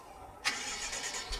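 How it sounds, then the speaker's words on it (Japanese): A BMW Alpina B6 engine cranks and catches abruptly, then settles into a steady idle with a few uneven pulses, close and fairly clear. "ちょっとぜひエンジンかけていただいて"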